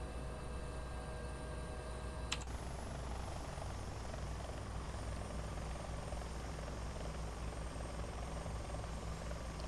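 Steady simulated helicopter rotor and turbine drone from the X-Plane 11 flight simulator, a constant near hum with a brief click partway through and no talking.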